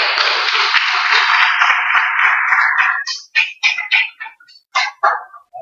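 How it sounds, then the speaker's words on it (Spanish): Church congregation applauding together: a dense, steady wash of clapping for about three seconds that then stops, followed by a voice speaking in short phrases. "Denle el aplauso al bendito sea"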